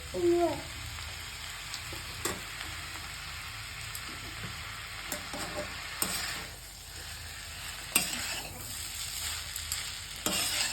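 Food being stir-fried in a pan right after soy sauce goes in, a steady close sizzle with scraping stirs and occasional sharper clatters of the spatula, no talking.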